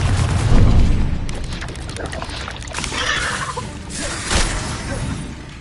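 Confringo blast spells fired in Hogwarts Legacy, with deep booming bursts and low rumbling impacts that rise and fall over several seconds, mixed with crackling debris and game ambience.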